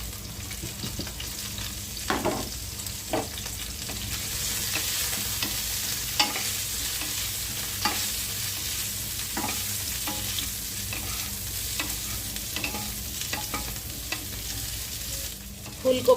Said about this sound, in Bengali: ফুলকপিটা ভাজতে দিয়ে দিয়েছি। ফুলকপিটা ভাজা হচ্ছে।